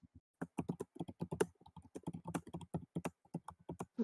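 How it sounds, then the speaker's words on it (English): Rapid, irregular clicking of keys on a computer keyboard, close and fairly quiet, with bursts of keystrokes and brief pauses and no voices. "So we're typing"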